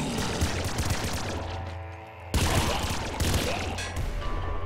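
Double laser rifles firing in the video game Nuclear Throne during an IDPD run, a loud, dense barrage of rapid zapping blasts that keeps going with short gaps and hard bursts, no voice over it.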